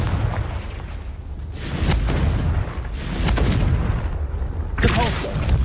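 Confringo fire spells cast in the Hogwarts Legacy video game burst out as several booming blasts, spaced roughly a second apart, amid the game's ambient sound.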